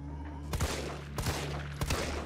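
Three loud gunshot blasts from a powerful weapon in the Resident Evil 3 demo video game, spaced about 0.6 seconds apart, each with a sharp crack and low boom over a steady game-music bed.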